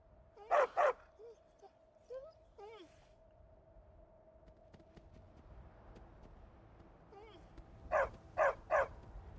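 In the video game Skyrim, a dog barks in two quick sharp bursts at the start and three more near the end, with soft whines and whimpers between, fairly close against a quiet background.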